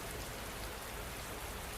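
Steady rain falls in a dense, even hiss with no breaks or shifts in loudness, moderately quiet and alone.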